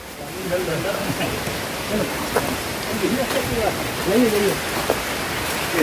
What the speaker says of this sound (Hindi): यहाँ पर बारिश भी बहुत हो रहा है